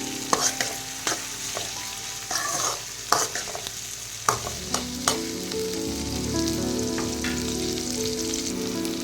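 Tomatoes fry in oil for a fish curry, first with a run of close spatula scrapes and taps over the sizzle, then settling into a louder, steady frying hiss and bubble with no talking.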